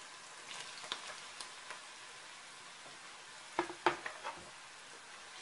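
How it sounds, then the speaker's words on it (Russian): Mushrooms and onion fry in a pan with a faint, steady sizzle, while a utensil stirs them in a few soft scrapes and taps. "Грибам добавляем лук."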